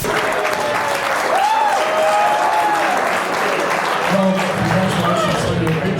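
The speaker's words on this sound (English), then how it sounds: "The Underworld faithful are cheering on young Mike E." A crowd at a professional wrestling show cheers and applauds steadily throughout, with voices rising over the dense clapping and a commentator talking over the noise.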